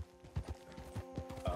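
Horse hooves clip-clop in a steady, moderately quick rhythm in Red Dead Redemption 2, close and fairly quiet, with no talk over them.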